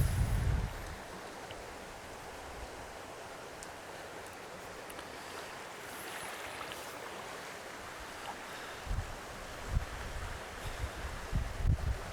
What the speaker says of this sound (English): Every time I come here, there's always a very strong afternoon wind